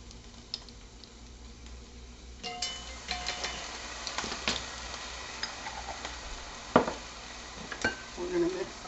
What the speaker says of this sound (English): We're going to mix that up really good. Mix it all up together.